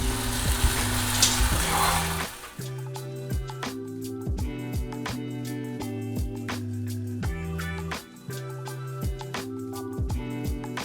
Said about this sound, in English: So we start off with a nice little veggie saute